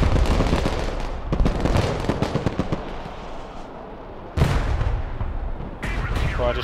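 Artillery and gunfire in the multiplayer war game Broken Arrow, dense rapid cracks and booms rolling together, loud and continuous with a fresh heavy blast midway and another near the end.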